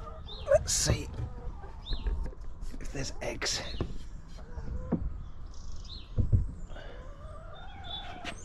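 Chickens cluck and squawk close by in short bursts, with a few higher chirps scattered among them over soft outdoor background.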